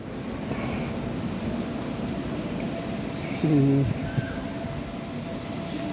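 A train pulls out of Hua Lamphong railway station in Bangkok, a steady low rumble of rolling stock with a brief, loud two-tone horn blast midway, heard amid station ambience.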